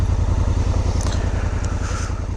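A dual sport motorcycle rolls off the highway onto a side track, its engine a steady, loud, close pulsing drone throughout with a few faint scrapes and crackles over it.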